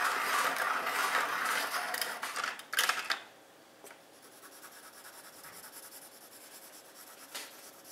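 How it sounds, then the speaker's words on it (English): A graphite pencil scrapes in a sharpener, a dense, close grinding rasp for about three seconds that stops abruptly and leaves a quiet room with a few faint scratches. "Sharpen my pencil."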